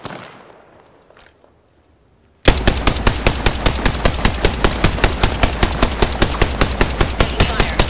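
Automatic gunfire from a weapon in the battle royale video game Apex Legends, starting abruptly after a quiet lead-in and continuing as a loud, steady rapid burst of shots to the end.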